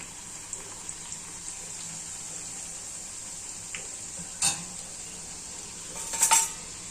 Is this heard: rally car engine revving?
no